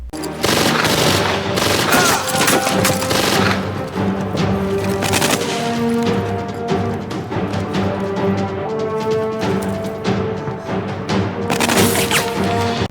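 Film shootout in a stairwell with the army: loud, sustained bursts of automatic gunfire mixed with crashes and booms, nearly continuous with brief gaps, with a dramatic score underneath.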